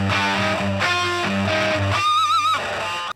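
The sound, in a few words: heavily distorted guitar through fuzz pedals and Mesa amp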